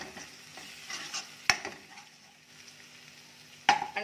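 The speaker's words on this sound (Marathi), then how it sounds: "तेलात छान परतून घेऊया" Kolhapuri masala (onion-garlic chutney) and turmeric sautéing in oil in a pan. A quiet, soft sizzle carries two sharp metal spoon clinks against the pan, one near the middle and one near the end.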